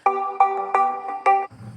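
A Realme C21Y ringtone plays a bright four-note repeating chime in even pulses, loud and close, then cuts off abruptly.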